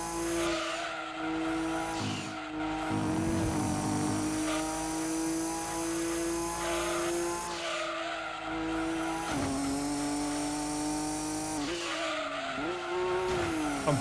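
Race car tires squeal and skid under late braking in Gran Turismo 2, the screech sustained over a steady engine drone for several seconds at a time, with repeated bursts through the lap.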